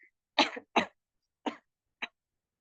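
Four short, separate coughs from a single person, the first two close together and louder, then two weaker ones spaced apart, all close to the mic in an otherwise quiet room with no speech.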